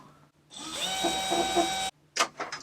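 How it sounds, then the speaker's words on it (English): A power drill whirs steadily for over a second, drilling a hole to install a sliding door blackout curtain, its pitch rising slightly as it bites in, then stops, followed by a few short rattling clunks. "Get the drill and drill the first hole."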